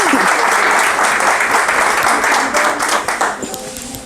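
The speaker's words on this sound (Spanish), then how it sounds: "Le damos un cálido aplauso." An audience gives warm applause to welcome a guest author at a book presentation, dense steady clapping that swells and then tapers off toward the end.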